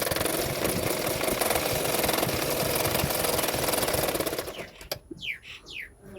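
Sewing machine stitching along the edge of the piping cord on a beginner's 36-size katori blouse, a steady rapid mechanical chatter running close and loud for over four seconds, then stopping.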